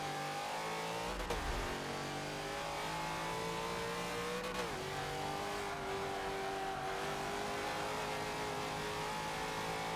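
An A-class race car roars through a Forza 7 race driven with manual shifting and clutch, its engine note rising in long revs with a couple of sharp shift drops, heard steadily and fairly faint.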